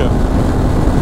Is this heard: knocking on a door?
no